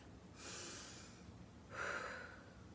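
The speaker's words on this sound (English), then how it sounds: "Take a deep breath." Two slow, soft breaths, a hiss of air drawn in then released, each lasting about a second, close and quiet with a pause between them.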